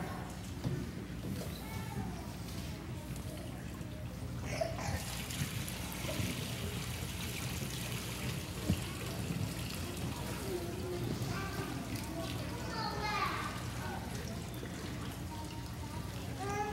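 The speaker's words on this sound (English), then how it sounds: "The water ran down all around the altar." Water poured over an altar runs down and trickles away: a continuous liquid dribble and splash, fairly quiet, steady across the whole stretch with small bursts of pouring.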